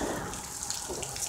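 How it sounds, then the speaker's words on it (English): Water drips and trickles steadily off a bridge during a hurricane, a continuous close, hissy patter of droplets with no voices over it. "Water is dripping down off the bridge."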